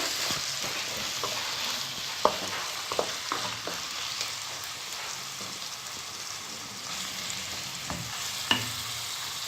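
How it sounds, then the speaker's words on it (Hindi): Crushed ginger and garlic fry in a pan of keema masala, giving a continuous close sizzle with occasional sharp taps and scrapes as the mix is stirred. "अदरक लहसुन कुटा हुआ इसमें ऐड करते हैं।"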